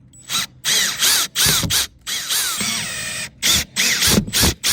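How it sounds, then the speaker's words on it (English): An electric drill backs screws out of a Dometic 30,000 BTU RV furnace panel in a string of short, loud, close bursts, its whine rising and falling with each start and stop, with brief pauses between. "Okay, let's use your electric drill."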